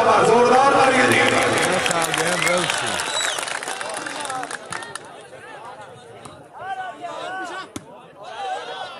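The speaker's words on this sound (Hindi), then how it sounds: "बराबर जोरदार तालियां दी" A crowd cheers and applauds loudly at a club event, with dense clapping and shouting that fades after a few seconds into scattered claps, thumps and voices.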